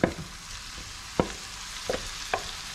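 Shrimp dropped into a pan with sautéed tomatoes, giving a steady low sizzle broken by four sharp spatula clinks and stirring knocks spread across a few seconds, close and moderately quiet with no talking.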